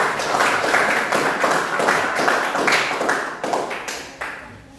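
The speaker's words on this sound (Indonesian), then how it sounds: "Berikan aplaus dulu untuk kelompok 3" Applause for a student group at an Indonesian Islamic education teacher-training presentation, a room of hands clapping steadily and fairly close, with a few brief lulls and no talk over it.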